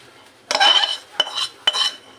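A sweet barfi mixture is scraped out of a pan into a ghee-greased plate, giving three distinct metallic scraping strokes: a longer first one, then two shorter ones with brief pauses between, close and without talk.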